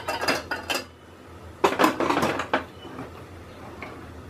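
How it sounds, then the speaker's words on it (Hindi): Metal clanks and rattles as a lid is set onto a metal container inside a pressure cooker, a few sharp knocks in two bursts with quiet between. "ऊपर ये ढक्कन लगा देंगे"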